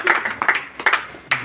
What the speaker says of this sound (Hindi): इसी संकल्प के साथ जोरदार तालियों के साथ माननीय मंत्री महोदय।